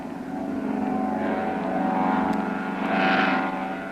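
A seaplane lifting off from the water, its propeller engine droning loud and steady, swelling as it climbs away.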